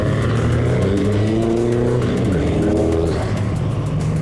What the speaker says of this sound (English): So they've just sent the cars to the grid for race one.